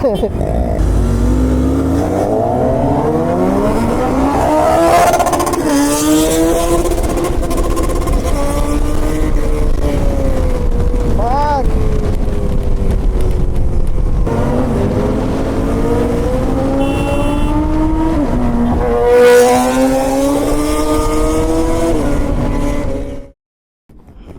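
A motorcycle engine drones steadily, its pitch rising and falling as the bike revs and shifts gears, close and loud throughout before cutting off at the end.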